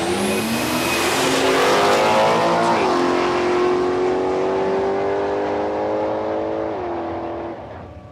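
A turbocharged Barra-engined Ford BA Falcon wagon roars down a drag strip at Palmyra Raceway, a loud, sustained engine note climbing and dropping with two clear gear shifts before fading away.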